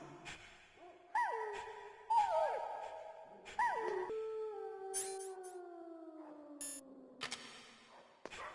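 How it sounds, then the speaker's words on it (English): Wolf dogs, half wolf and half husky, howl in the Metal Gear Solid video game, several long wavering howls rising and sliding down one after another, overlapping and fading, fairly clear against quiet background. "Wolf dogs. Half wolf, half husky."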